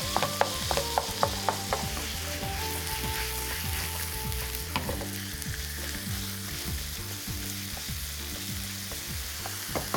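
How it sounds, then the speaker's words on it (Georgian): Minced beef frying with onion and garlic in a pan sizzles steadily up close, while a utensil stirs and scrapes in quick, repeated knocks. "ხახვი კარგად მოიბრაცა, დავუმატებ გატარებულ საქონლის ხორცს."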